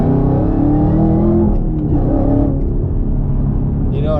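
A Chevrolet Camaro ZL1 1LE accelerates up an interstate entrance ramp, the engine's rumble climbing in pitch through a couple of pulls, loud and close from inside the car.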